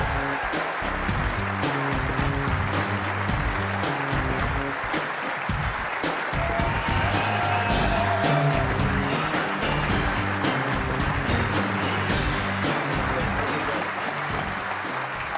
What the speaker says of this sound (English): Big cheer for Ding as he walks into the Crucible